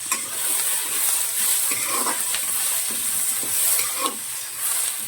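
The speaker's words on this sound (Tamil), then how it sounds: "நல்லா கலக்கி விட்டு கொஞ்சம் செவந்து வந்துடுச்சு." Spoon scraping and stirring a mutton gravy base frying in a pan, a steady sizzle and hiss beneath irregular scraping strokes, close and fairly loud, with no talking.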